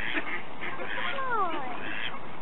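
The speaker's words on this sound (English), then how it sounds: "Some ducks convening here." Ducks quack and call in a noisy outdoor group near swans on a day out in Alton, Hampshire, steady chatter throughout with a clearer honking call midway, moderately close.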